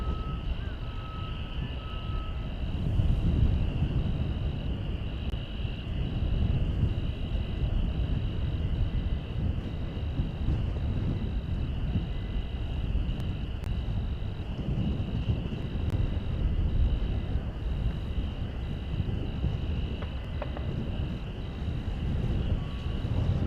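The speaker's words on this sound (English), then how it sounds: "I'm hearing the buzz of a propeller plane over there." A propeller plane drones steadily in the distance at a Dallas/Fort Worth airport on a hot day, its low buzz joined by a thin constant tone and wind rumble with no voices.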